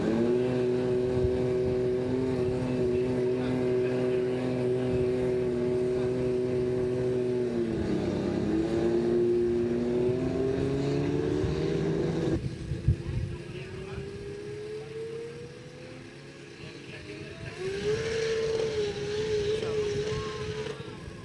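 A drag racing car accelerates down the strip, its engine a steady loud drone that dips, shifts pitch and climbs again as the car starts to lose the back under power, with a brief clatter midway.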